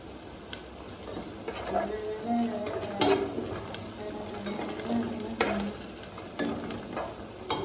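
Onions sizzle and fry in a pan for Yemeni mandi, with a steady crackle underneath and repeated scraping strokes as they are stirred; a few faint tonal sounds drift in the background, with no talking.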